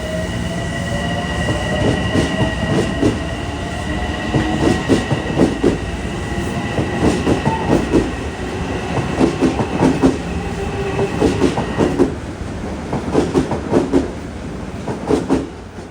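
A Metro-North train rolls through Spuyten Duyvil station in Riverdale, beside the Hudson, with a steady loud rumble, rhythmic wheel clatter over rail joints and high squealing tones from the wheels, continuing throughout with no talk.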